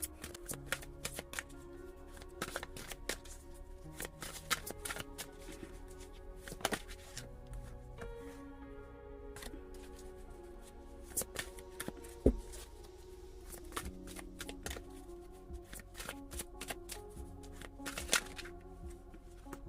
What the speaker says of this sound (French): Il y a beaucoup trop de cartes. Alors je vais battre correctement.